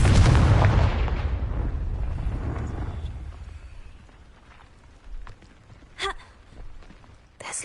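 A Confringo fire spell blasts in Hogwarts Legacy, a loud broadband explosion that rumbles and fades over several seconds, followed by a few quieter crackling bursts and game effects.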